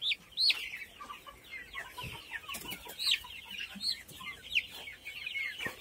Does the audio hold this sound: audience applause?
no